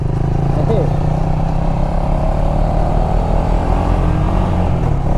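A modified KTM Duke 250 motorcycle with an aftermarket exhaust idles close by, a steady, throbbing low engine rumble that runs the whole time beneath someone speaking.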